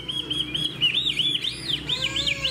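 A hwamei songbird with a fanned tail sings a loud, close, continuous run of clear, sweet whistled phrases that rise and fall with rapid warbling trills, heard alone without talk.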